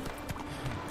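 Horse hooves clip-clop in The Witcher 3 at a steady walking rhythm, moderately loud against a busy game soundscape with a faint voice underneath.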